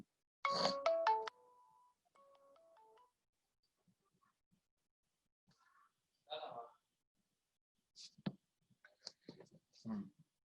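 Phone ringtone chiming near the start as a short melodic tone sequence, followed by sparse quiet sounds and bits of speech from a Sanskrit classroom.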